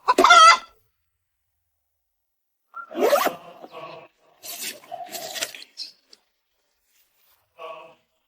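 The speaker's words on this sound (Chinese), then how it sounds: "这是大清早抓回来的正宗走地老母鸡，野性大着呢" A free-range old hen clucks in a few short, sharp bursts separated by silence, close and fairly loud.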